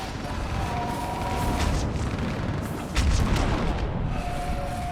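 Artillery fire support explosions in the Mass Effect 3 video game, a dense, continuous battlefield rumble with a heavier boom near the three-second mark, loud and sustained throughout.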